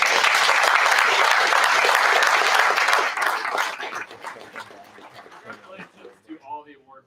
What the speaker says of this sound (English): let's give one more round of applause to class 17 Sierra 23007